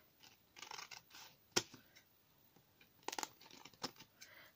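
Scissors cutting material in a few short snips, a loud single cut followed by a quick cluster of crisp snips later, close up and with no talking.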